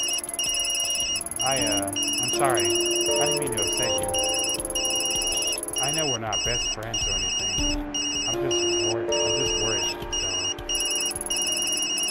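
A phone rings insistently in the video game Tokyo Dark, a repeating electronic trill heard throughout beneath a woman's continuous spoken dialogue.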